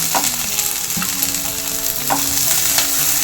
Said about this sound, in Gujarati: બસ થોડુંક હલકું એવું શેકવાનું છે અને ગેસ થોડોક ફાસ્ટ રાખવાનો છે, ધીમા ગેસ ઉપર નથી શેકવાનું.